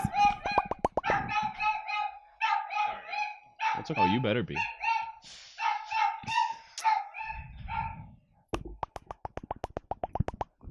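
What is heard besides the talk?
small dogs barking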